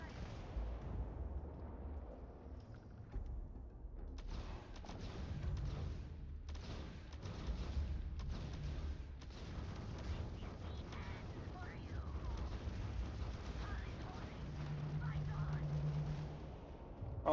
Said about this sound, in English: you can see how the turret is firing more frequently now